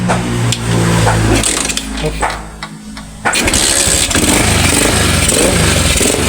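A stock motorcycle engine is kick-started, catches after a brief dip and runs loud and close, its steady rumble continuing under someone talking.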